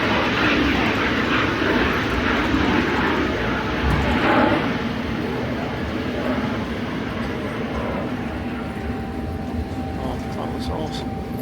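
An airliner taxis past at an airport at night, its jet engines producing a loud, sustained broadband roar that swells slightly and then eases as it moves by.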